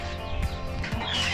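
Twelve young chicks in a roomy pen peep and chirp faintly at close range, with a few brief cheeps over low background noise.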